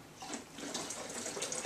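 Water poured into a jug for making lemonade, a faint, steady splashing trickle close by for under two seconds, no voices.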